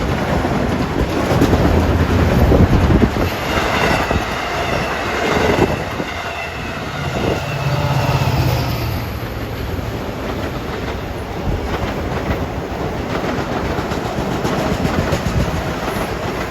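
LIRR dual mode train 566, Penn Station to Oyster Bay, rumbling past at Forest Hills during the evening rush, loud and sustained with rhythmic clickety-clack and faint wheel squeal easing off.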